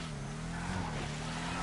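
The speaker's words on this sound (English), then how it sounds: "it's your basic, nothing special, basic muscle car V8 exhaust" A basic muscle car V8 exhaust in GTA V, the Declasse Tulip M-100, gives a steady low rumble with a droning engine tone running all the way through.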